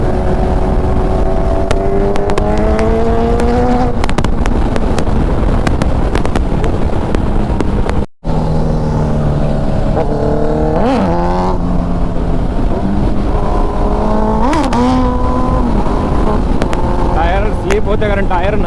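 Car tires spinning in place at a winter supercar and bike drag racing event, with loud rising and falling engine revs in repeated bursts, a brief cutout midway and people talking over it.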